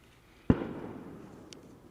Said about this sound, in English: Somebody's lighting off fireworks.